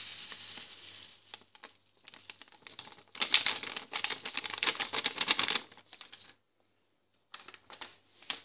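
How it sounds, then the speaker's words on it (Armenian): Orange jelly dessert powder poured from a bag into a glass makes a dry, rapid granular patter, in bursts with a few short pauses and small rustles of the packet. "Հիմա այս տոպրակի պարունակությունը լցնում եմ բաժակի մեջ, նարինջինը մի բաժակի մեջ։"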